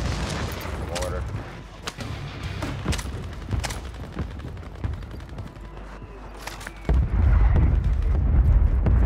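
Mortar explosions in Warzone on Rebirth Island, with heavy booms and scattered gunshots through a loud battlefield and a big blast near the end, and voices calling out over the combat.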